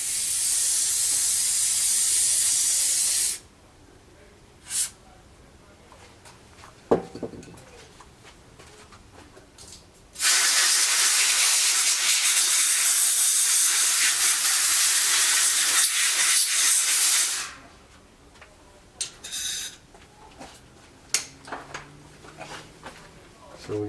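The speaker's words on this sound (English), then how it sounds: "So we got the bowl sprayed out and pretty clean." Cleaner sprayed into the carburetor float bowl of a 1991 Yamaha XT 350 dirt bike: two long, loud, hissing aerosol blasts separated by quieter stretches with small clicks and handling noises.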